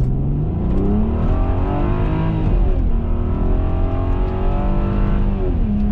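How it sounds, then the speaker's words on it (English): A Volkswagen Passat VR6 4-Motion accelerates from a stop sign, its six-cylinder engine droning steadily and loud as the revs rise, drop briefly on a shift, then climb again, with no talk over it. "So we're gonna do a little pull here off of the stop sign."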